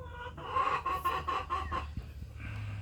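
Brahma chicks peep in a rapid run of about eight high chirps, close and fairly loud, followed by a couple of soft knocks and a low steady hum.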